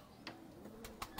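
Heera Lal pigeons kept in a loft coo softly and faintly, a few brief low calls spaced out over a quiet background with some light rustling.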